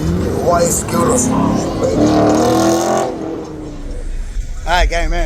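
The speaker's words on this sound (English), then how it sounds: "we still got cars pulling up in here" Cars pull up at a car show in Olive Branch, Mississippi, with engines rumbling and revving close by while people talk loudly over them, and a brief whooping siren-like sound near the end.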